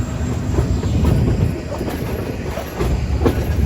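Meghna Express passenger train rolling on rails in Bangladesh, a steady close rumble of wheels and carriage noise with faint rhythmic clatter throughout, no voices.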